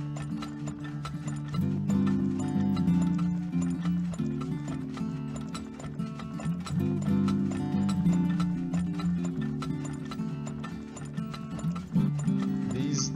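Horse hooves clip-clop in the video game Turmoil, a steady close trotting rhythm layered under continuous tonal background music.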